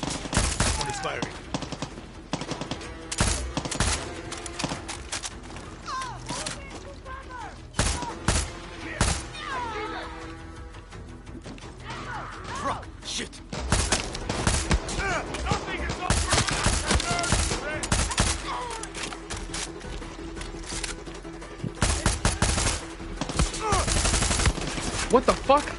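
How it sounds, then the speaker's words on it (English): Automatic gunfire in Far Cry 6 comes in loud, rapid bursts and sustained volleys, with sharp cracks recurring throughout and heavy fire near the end. "Someone is firing."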